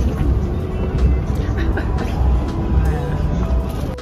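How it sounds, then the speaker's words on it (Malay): Sleeper train pulling into a station on the way to Gemas, a steady low rumble of rolling stock with squealing and clanking, loud and close, while people talk over it. "Kereta api pun dah sampai"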